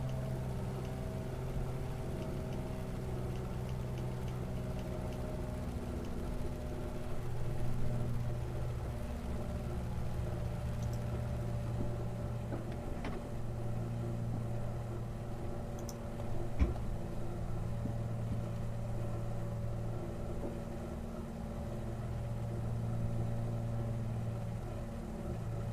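Aircraft engine noise in a flight simulator video game gives a steady, droning hum with layered tonal bands that holds throughout at moderate level, with faint clicks now and then.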